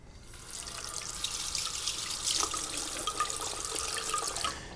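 At a salon sink, a low-pressure hose held close to a client's scalp rinses shampoo from the hair with a continuous rush of running water and fine splashing and trickling that swell slightly midway, with no one speaking.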